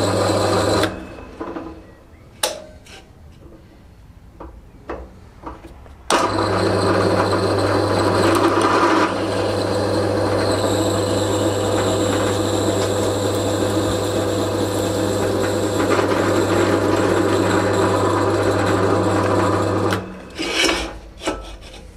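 Drill press boring holes with a drill bit for a Harold Hall tapping stand in a home workshop, a steady close motor whine and grinding cut running continuously for about fourteen seconds, with brief clatters of setup before and after.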